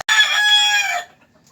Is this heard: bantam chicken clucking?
yes